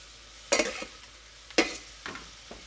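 Half an onion frying in oil is stirred in a pan, giving two distinct scraping strokes with a few lighter follow-up scrapes over a quiet sizzle, close and fairly soft.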